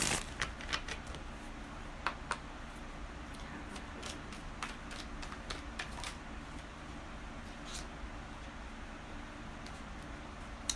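Tarot cards are shuffled close by, giving a quiet run of soft papery riffles and scattered sharp flicks over a faint hiss.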